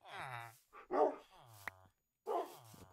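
Dog barks and growls in a Minecraft game, several short yapping bursts separated by brief gaps, fairly close and clear, with some vocal-like tones mixed in and no talk over them.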